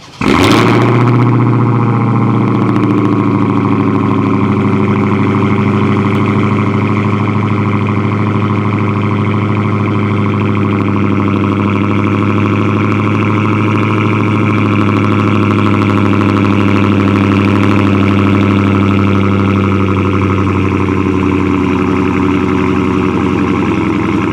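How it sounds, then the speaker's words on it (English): A 2019 Dodge Hellcat widebody engine cold-starts with a sharp burst, then settles into a loud, steady, deep rumbling idle that drones on for over twenty seconds with no talking. "I gotta do a cold start of the Hellcat."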